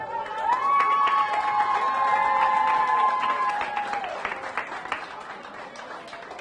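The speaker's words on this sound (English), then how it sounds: "Let's give them a round of applause." Audience applause at a Rotax kart racing nationals event in Benoni for young drivers aged five to nine, with steady clapping and cheering that starts loud and slowly fades, overlaid by a sustained whistle or horn tone.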